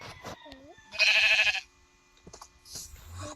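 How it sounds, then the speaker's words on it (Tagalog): Goat bleating in a rural farm setting, one loud wavering bleat rising above quieter background sounds, with faint animal noises before and after. "may kambing."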